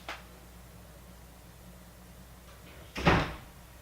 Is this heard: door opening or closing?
yes